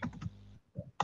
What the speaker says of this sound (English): Yeah, I'm just typing so that you can see it if you forget it.